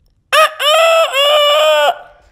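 A man vocally imitates a small chicken, producing one short bright call followed by a sustained, wavering, loud crow-like cry with no other sound around it.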